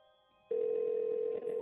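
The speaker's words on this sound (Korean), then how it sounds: "내가 어딘가로 전화를 건다." A telephone line picks up with a steady tone after a half-second of near silence, holding a single sustained pitch with a brief dip near the end, close and clean with no voices.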